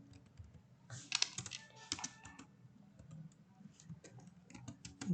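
Java code is typed on a computer keyboard in a quiet room, with faint, irregular bursts of key clicks that cluster in quick runs and then pause.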